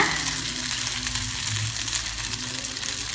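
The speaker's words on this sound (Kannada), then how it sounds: "ಈ ಉಂಡೆಗಳನ್ನ ತಗೊಂಡು ಇದನ್ನು ಹಿಟ್ಟಲ್ಲಿ ಮುಳುಗಿಸ್ಬಿಟ್ಟು ನಿಧಾನವಾಗಿ ಎಣ್ಣೆಗೆ ಬಿಡೋಣ" Batter-dipped sukkinunde balls sizzle loudly in hot oil, a close, steady bubbling fry holding evenly throughout with no voices.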